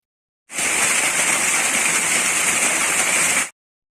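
Water gushes hard and steadily from a Havells 2HP monoblock pump, a loud, even hissing rush that starts abruptly and stops just as suddenly after about three seconds.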